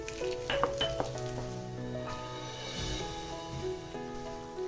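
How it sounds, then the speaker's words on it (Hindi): Gram flour (besan) sizzles and fries in hot ghee in a kadhai while being stirred, a steady close sizzle with occasional scraping clinks of the spoon against the pan. "अब मैं इसमें अपना बेसन ऐड कर रही हूँ"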